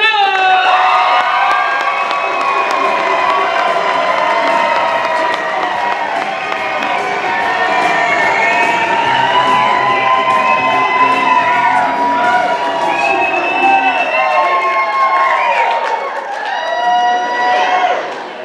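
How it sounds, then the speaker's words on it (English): A crowd cheers, whoops and shouts loudly and continuously, a dense wall of excited voices that stays strong from start to finish. "Please put your hands together and give a warm round of applause for Mr."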